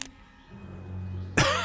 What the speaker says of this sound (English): Henry lit another cigarette and coughed out a lung full of smoke.